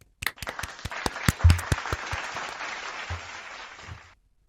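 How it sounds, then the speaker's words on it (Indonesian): A small audience claps, starting with a few sharp separate claps that merge into a brief burst of applause and then fade out after about four seconds. "tepuk tangannya dulu"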